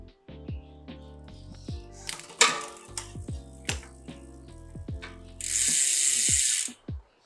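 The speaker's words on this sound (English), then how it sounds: "the 4 clicks only happens at the gear 12 to gear 9" A Sensah Empire Pro 2x12-speed bicycle shifter clicks through its gears in close, crisp ratchet clicks, arriving in quick clusters with short pauses between, ending in a brief burst of hiss.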